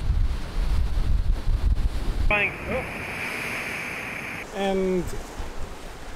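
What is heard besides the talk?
seawater waves crashing on rocky shore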